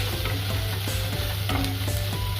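Poha with turmeric and salt frying in a pan, with steady sizzling broken by a series of spatula scrapes as it is stirred, close and continuous with no voices.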